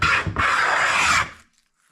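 A handmade continental-style scrub plane makes two quick rasping strokes across rough sawn wood, the first short and the second longer, close and loud, before fading into silence.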